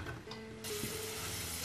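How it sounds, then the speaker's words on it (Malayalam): Raisins fry in hot coconut oil, a brief, faint sizzle that swells suddenly partway through and then holds as a steady hiss. "നമ്മൾ എണ്ണയ്ക്കകത്തിട്ട് നല്ലതുപോലെ വറുത്തെടുക്കുക"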